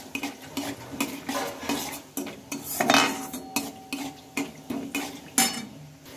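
Peanuts and dried red chilies being fried in a pan over lowered gas heat, with repeated metallic scrapes and clinks of a utensil against the pan over a faint sizzle, in steady strokes close by.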